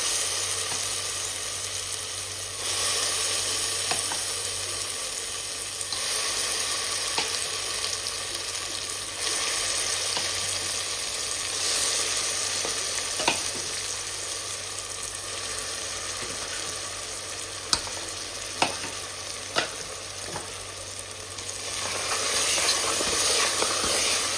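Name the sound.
tomato paste frying in a pan after roasting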